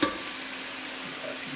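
Onions and carrots soften in a pot with a steady, gentle sizzle and a soft stirring scrape, close and even throughout the short stretch.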